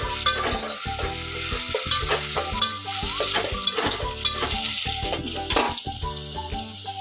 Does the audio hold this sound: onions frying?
yes